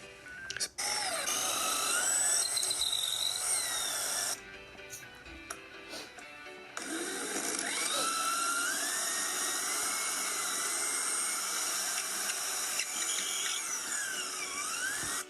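A drill whines at high pitch as it bores holes through work clamped in a drill jig, running in long sustained passes with a brief pause and shifting tone as it cuts.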